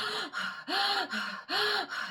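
Forceful, rapid breathing during an anxiety-relief breathing exercise: three loud, sharp inhalations in quick rhythm, each followed by a short pause, close to the microphone with no talking.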